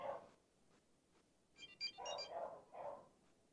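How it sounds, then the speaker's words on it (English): The Kim communicator ringtone from the cartoon Kim Possible, a short faint electronic chime pattern of quick beeping tones with a few bursts, played quietly with no talk. "So, that one, which is the Kim communicator from Kim Possible."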